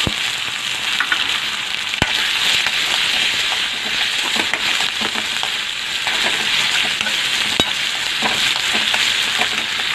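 Onion and chili sizzle in hot oil with asafoetida in a pan. The frying hiss is steady and close throughout, with occasional sharp clicks of the spoon against the pan.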